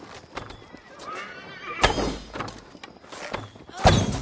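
Horses in the video game Assassin's Creed Valhalla whinny and neigh nearby, mixed with hoof clops and a few heavy thuds, two louder bursts standing out, with no talking.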